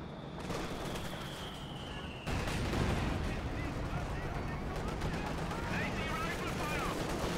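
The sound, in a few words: machine gun fire in a World War II strategy video game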